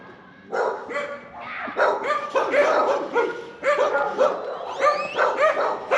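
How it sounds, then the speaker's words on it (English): Several dogs barking in a Mexican street, repeated loud close barks and yips in irregular bursts overlapping one another, with some whimpering mixed in. "all the dogs are going to bark"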